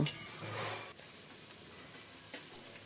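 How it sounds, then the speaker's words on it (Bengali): Large-cut chopped onion sizzles in hot oil with chili and garlic, a steady close crackling hiss that jumps in loudness as the onion hits the pan and then settles into an even fry. "দিয়ে দিলাম একটা বড় সাইজে পেঁয়াজ কুচি পেঁয়াজটাও ভেজে নেব"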